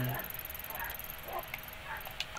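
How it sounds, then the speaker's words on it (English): Faint dog yips and whimpers, a few short cries scattered over a hissy background, somewhat distant. "if y'all hear my dogs"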